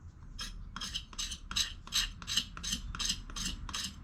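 A knife blade shaves fatwood into fine curls with about ten rhythmic rasping strokes, each a short, close scrape repeated at an even pace.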